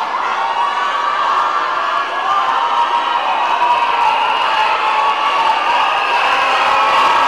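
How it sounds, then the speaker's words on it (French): Loud, sustained crowd cheering and applause fill a theatre audience at a Reine des Grandes Écoles 2015 pageant, with whoops and shouts blending into a steady roar throughout. "Maximum d'applaudissements pour elles."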